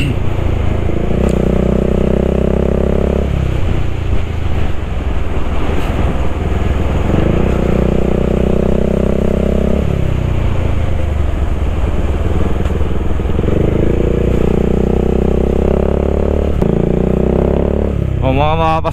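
A motorcycle rides an off-road track through hills, its engine droning steadily and swelling with periodic revs and gear changes, close and loud throughout, with a rider occasionally speaking over it.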